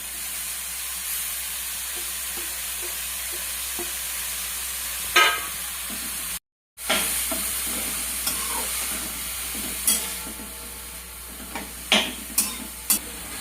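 Crushed radish stir-fries with turmeric in a pan for mulyachi bhaji, a continuous hiss and sizzle broken by scattered clinks and scrapes of the spatula, with a brief cut midway.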